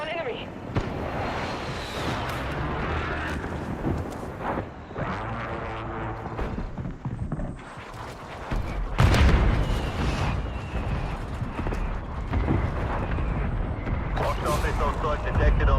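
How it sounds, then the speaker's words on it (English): Booming missile-strike explosions in a shooter video game roll and rumble over continuous gunfire and battle noise, with loud blasts hitting about midway, while a voice speaks over the action. "Hostile missile strike detected on the nearby target."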